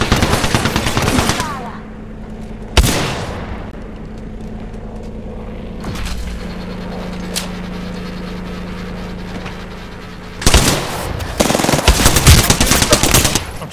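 Automatic gunfire in the video game Apex Legends: loud sustained bursts of rapid shots open and close the stretch, with a low rumbling lull and one sharp isolated shot between them.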